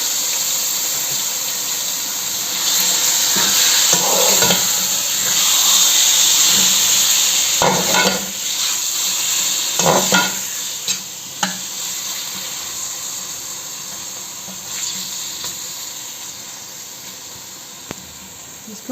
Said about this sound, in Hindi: इसी ऑयल में हमने चिकन को फ्राई करना है